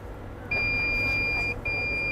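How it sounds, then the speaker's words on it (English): Device being connected gives a steady electronic beep tone lasting about a second, then a brief break and the tone resumes, over a low background hum. "No, should be only one beep,"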